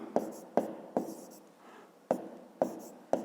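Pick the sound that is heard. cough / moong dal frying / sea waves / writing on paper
writing on paper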